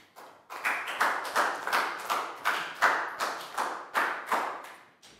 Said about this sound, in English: Big round of applause for Net, guys.